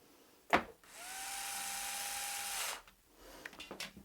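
An electric screwdriver drives a screw to mount a PC power supply inside a DAN SFF ITX case. A sharp click comes first, then a close, steady high whine lasting about two seconds that stops abruptly, followed by light handling taps.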